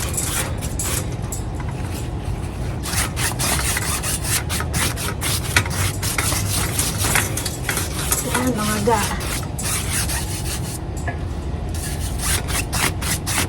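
Small broom brushing Korean blinds during cleaning, producing continuous scratchy rubbing strokes in quick rhythm, close and fairly loud, with occasional brief speech over it.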